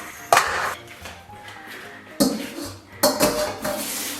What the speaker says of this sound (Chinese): 咱们把这个猪蹄给它捞出